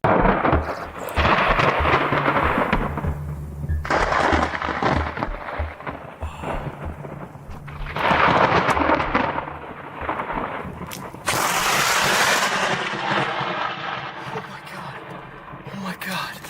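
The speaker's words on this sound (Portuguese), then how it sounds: "Aquilo foi um raio de morte e atingiu bem atrás dele" Close lightning strikes during a storm bring loud cracking thunder bursts that roll and fade, several heavy blasts in succession, with excited voices shouting between them.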